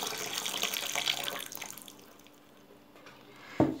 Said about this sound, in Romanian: turnăm apă fierbinte și îl lăsăm la înmuiat